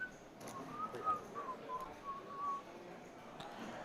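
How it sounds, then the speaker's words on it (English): Someone whistles a short wavering tune at a live no-limit hold'em cash poker table, faint and somewhat distant, with quiet room murmur and soft clicks around it. "Somebody's whistling."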